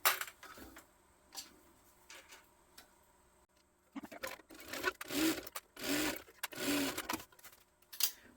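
A sewing machine bastes a vinyl panel for a crossbody hip bag: short whirring stitching runs at first, then longer, louder bursts of rapid mechanical stitching close by, separated by brief pauses, with no voices.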